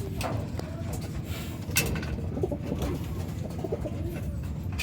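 Birds call and coo amid a busy, noisy background, with soft repeated notes and chatter mixed into constant ambient rumble.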